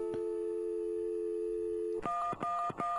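Telephone tones sound in the Gabriel Knight video game, starting with a steady dial tone for about two seconds and then a quick series of keypad dialing beeps, clear and loud with no voices.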